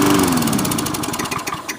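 A Lawn-Boy lawn mower engine chuffs and sputters as it shuts off, a loud, uneven rhythmic pulsing that slows and grows ragged toward the end, with no talk over it.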